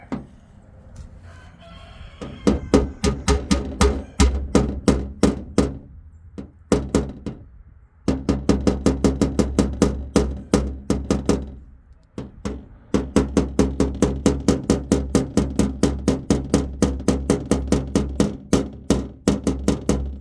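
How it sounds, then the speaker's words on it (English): Rapid, sharp metallic taps of a hammer on a car panel during paintless dent repair, in bursts, dozens of quick strikes with short pauses between runs, close and loud. "We can try the bigger hammer."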